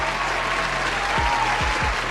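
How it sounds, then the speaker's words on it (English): An audience claps in a dense, steady burst of applause heard at close to moderate distance, with a few low thumps underneath. "give him a round of applause."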